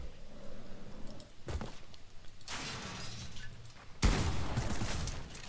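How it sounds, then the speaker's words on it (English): Bursts of gunfire from the video game Fortnite, a first attempt on PC controls, crackling in separate volleys with a loud, sharp flurry near the end. "You shot at me. I get to shoot at you."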